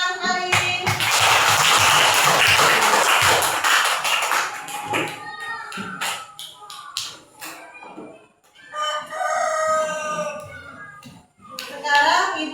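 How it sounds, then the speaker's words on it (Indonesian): Children in a classroom clap together in a burst of applause-like clapping that fades out, followed by a teacher's voice and children talking. "Coba tepuk tangan sekali."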